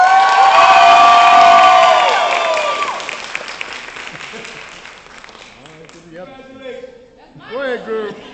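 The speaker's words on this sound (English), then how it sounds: "We will also give an extra round of applause to Melanie." A graduation ceremony audience claps and cheers loudly, with high whoops and shouts over the applause, which then fades into quieter crowd noise before voices rise again near the end.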